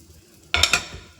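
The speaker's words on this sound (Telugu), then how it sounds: "బాగా వేగిపోయాయి" Malabar spinach leaves frying in oil in a pan give a brief close burst of sizzle and stirring clatter after a quiet start, with two or three quick scrapes before it fades.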